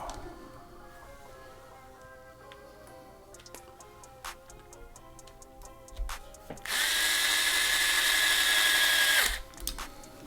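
A cordless power driver whirs loudly for a few seconds as it drives a screw into an Element Sendero SE crawler's transmission, preceded by quiet ticking and small clicks and thuds.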